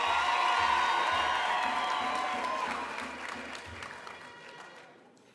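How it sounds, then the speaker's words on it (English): A university graduation crowd applauds the Vice Chancellor with clapping and some cheers and whoops, loud at first and then trailing off toward the end amid the hall's reverberation. "Can we give the Vice Chancellor a big round of applause"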